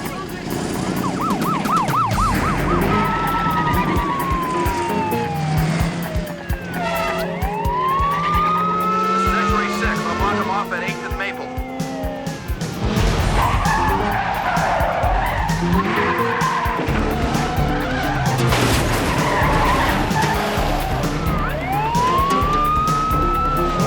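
A police car with wailing siren chases at speed, tires skidding and squealing loudly through sustained engine roar, with shouting voices in the mix.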